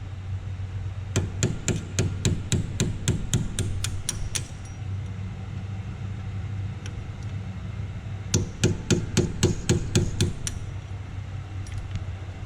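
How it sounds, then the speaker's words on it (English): Two runs of sharp metallic hammer strikes on a punch knocking out brake caliper pins on a Ford Mustang GT350, a rapid steady series, then a pause and a second quick series, close and clear over faint background hum. "you have to knock out these two pins on the caliper to remove the retaining clip"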